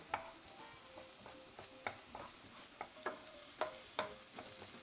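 Thin slices of garlic frying in a pan for sobrasada pasta, with a steady sizzle and sharp scraping stirs about once a second, close and clear with no talk.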